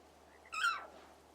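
A large feathered bird mount in a fantasy video game gives a single short, bright call, a rising then falling squawk heard alone against a quiet background.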